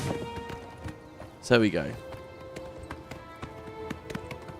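Horse hooves clip-clop steadily while riding through the world of the game Oblivion Remastered, with a louder burst partway through and someone talking over it.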